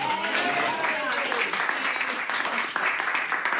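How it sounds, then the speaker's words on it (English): Sustained crowd applause at an 80th birthday celebration, dense steady clapping filling the room for several seconds, with some voices mixed in. "So really a huge round of applause for Emily."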